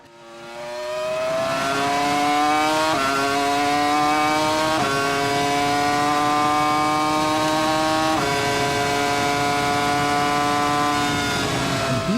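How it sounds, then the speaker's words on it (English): A 2003 BMW Formula 1 V10 engine on an onboard lap screams at very high revs, loud and close, with several sharp gear shifts briefly dipping the pitch before it climbs again. "The car shaking, the exhaust glowing, the revs climbing until the engine sounds like it's about to leave the physical world behind."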